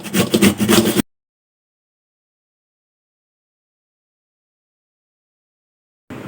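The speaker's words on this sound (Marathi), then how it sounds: "आपली ही अर्धी लौकी आता पूर्णपणे किसून झालेली आहे" Coarse grater shredding bottle gourd gives a dense, scratchy rasping burst for about a second, followed by a long silence and a faint return of the scraping at the very end.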